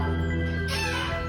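A rooster crows once, a short nearby call that is loud and clear with no talking.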